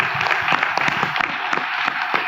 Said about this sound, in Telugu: గట్టిగా చప్పట్లు కొట్టి దేవునికి స్తోత్రం చెప్తాం